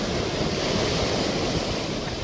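Ocean waves crash onto a beach shore in a loud, continuous rush of surf mixed with wind noise, with no voices.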